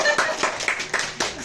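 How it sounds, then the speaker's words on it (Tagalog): A small group claps at a farewell gathering, several short bursts of hand claps spread across the moment, close and fairly loud, with a little speech mixed in. "palakpak."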